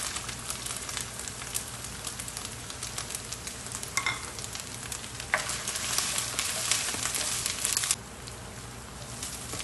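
Three chopped onions stir-fry in a hot pan for chole, a dense, steady sizzle with crackling and the scrape of stirring, loud and close throughout with no voices.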